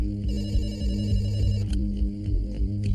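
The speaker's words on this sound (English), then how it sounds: "Across town, a late-night phone call wakes Dr. Bandari, senior consultant at Bhopal's main hospital" A telephone rings late at night in a home in Bhopal, a steady electronic bell repeating for about two seconds before fading, then a few fainter ring bursts follow, with no talk.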